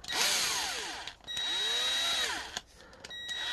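A handheld power drill spins to twist the wires of a hi-end figure-8 powercord, whining up in two long bursts that rise and fall with brief pauses between, loud and close.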